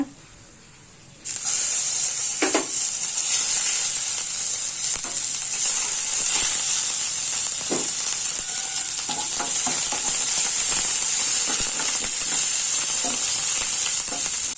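Dried chillies, whole garam masala and ginger sizzle in hot oil, a loud, steady frying hiss that bursts in after a brief quiet start and carries on with occasional stirring clicks.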